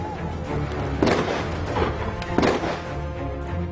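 Sharp gunshots crack out against background noise during a military counter-terrorism training exercise on a rocky mountainside, a few distinct bangs spaced unevenly, with one near the start and another midway.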